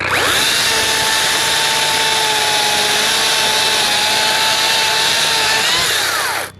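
Makita chainsaw cutting into an oak tree beside a house, a loud continuous high-revving whine held steady for several seconds before it cuts off, close by.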